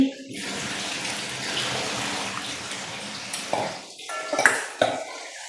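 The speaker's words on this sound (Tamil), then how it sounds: "இதில் கொஞ்சம் தண்ணி ஊற்றி" Water pours steadily into a pot of tamarind water for several seconds, a continuous splashing rush, followed by a few light metallic clinks near the end.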